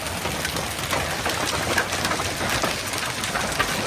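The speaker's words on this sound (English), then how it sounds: "That's huge hail." Quarter-sized hail pelts vehicles during a July storm in Minnesota, a dense, loud, continuous clatter of hard impacts with no pause.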